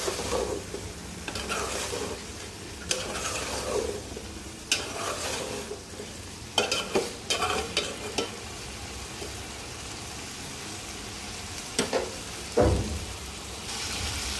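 Curry sizzles and fries in hot oil in a pan while a spoon stirs it, scraping and knocking in irregular bursts over a steady sizzle, close with no talking.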